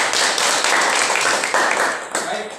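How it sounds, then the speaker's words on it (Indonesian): Students in a classroom applaud a student group, a short burst of close, bright clapping from many hands with slight irregular pulses, fading toward the end. "tepuk tangan untuk kelompok 3"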